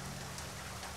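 Steady rain hisses evenly, a soft continuous wash of drops with no voices.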